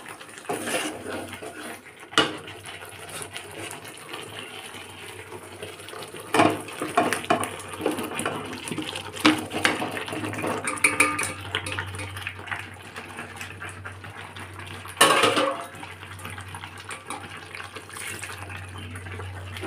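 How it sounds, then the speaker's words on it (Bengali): Bowl-rinse water, carrying leftover juice from fried chicken, poured into a cooking pot, a steady splashing and trickling wash with occasional clanks of metal utensils against the vessel, no talk. "বাটি ধোয়া জলটা দিয়ে দিচ্ছি"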